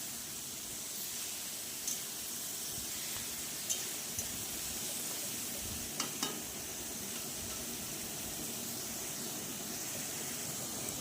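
Sliced sponge gourd tossed with potatoes in hot oil, a steady loud sizzle throughout with a few faint scraping clicks of stirring.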